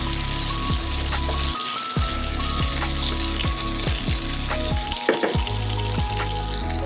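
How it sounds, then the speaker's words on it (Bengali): Pieces of pointed gourd (potol) frying in oil over a low flame, giving a loud, steady crackling sizzle close by, with a few soft clicks of utensils and no voices. "আঁচটাকে একদম কমিয়ে ভাজবো তাহলে পটলটা ভালোভাবে ভাজা হবে"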